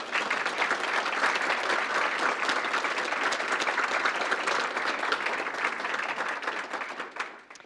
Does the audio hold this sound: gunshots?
no